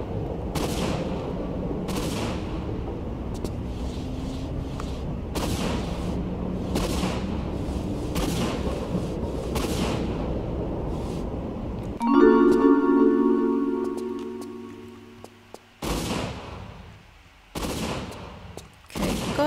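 Gunfire in the classic action game Tomb Raider 3 during a city showdown: a long stretch of repeated sharp shots and bursts, then a tonal sustained noise briefly takes over before loud isolated shots return near the end.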